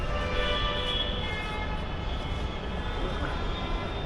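Steady low rumble of a train running through a clean underground metro station, constant and enveloping, with faint high hum and no voices.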